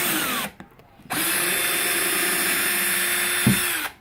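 A power drill whirs loudly and steadily, stopping briefly near the start, then running again with a short grinding bump as it bites through a plastic box.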